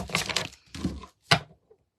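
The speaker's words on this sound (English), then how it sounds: "I'm pulling cards. I'm just shuffling." Cards riffle and slap together in three quick bursts, close up, with short pauses between.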